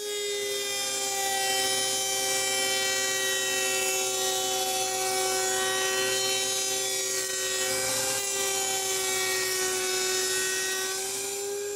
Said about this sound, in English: set up my router table with a rabbeting bit to cut that small reveal